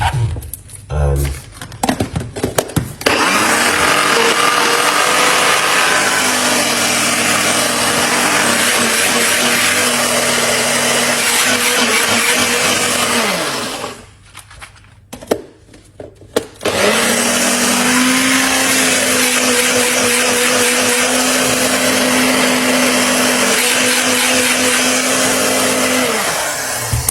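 A blender whirs loudly while blending celery with a little water for juice, running steadily for a long stretch, stopping briefly, then starting again for another sustained run.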